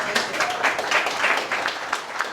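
Applause from an audience at an oceanfront estate event: brief, steady clapping with a few sharper claps over a couple of seconds, moderately loud and fairly close.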